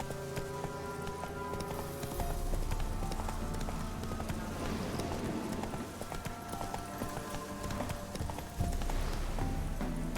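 A horse gallops in The Witcher 3, with rhythmic rapid clip-clop hoofbeats that are close and steady over a game ambience.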